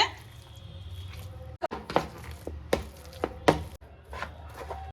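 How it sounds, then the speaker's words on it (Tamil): Boiled chicken and potato being mashed in a bowl: soft, wet squishing presses and occasional taps come in uneven bursts, close and fairly quiet, with no talk. "ஒரு பவுண்டில் போட்டு நல்லா மேஷ் பண்ணலாங்க"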